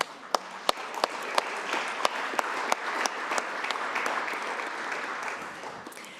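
Sustained audience applause at a Montana constitution anniversary gathering, a broad even crowd of clapping hands with occasional loud individual claps popping out, holding steady for several seconds.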